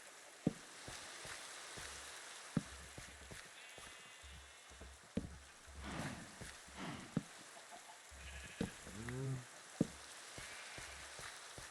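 Sheep bleat now and then in a Minecraft farm, short quiet calls spread over a low ambient backdrop with occasional soft footstep-like clicks.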